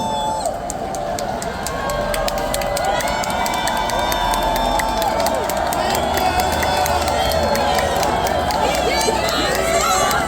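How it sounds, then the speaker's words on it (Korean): Loud, dense crowd noise with cheering and clapping at a presidential election campaign rally in Daejeon, South Korea, fills the whole stretch, a continuous roar of many people at once. "여러분 큰 박수로 맞이해 주시면 감사하겠습니다."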